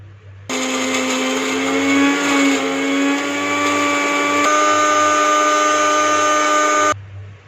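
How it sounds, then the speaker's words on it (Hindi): A mixer grinder runs steadily at high speed, grinding peanuts for homemade protein powder, a loud continuous whine that starts abruptly, shifts pitch slightly midway and cuts off sharply. "मूंगफली के दाने भी इसमें शामिल कर देंगे। इसे भी हाई स्पीड पे ग्राइंड कर लेंगे।"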